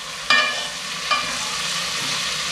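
Onion and capsicum tempering in a hot pan for chilli mushroom, with a steady close sizzle and two sharp stirring scrapes near the start and middle; no one speaks.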